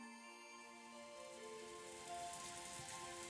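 Soft steady rain patters continuously in the Umineko When They Cry video game, a gentle even hiss layered over sustained musical tones, with no voices.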